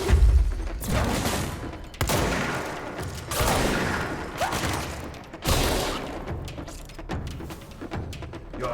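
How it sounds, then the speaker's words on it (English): Shotgun blasts in the action game Control, a series of heavy, loud booming shots spaced a second or so apart, each with a short decaying tail, mostly alone. "It is a shotgun."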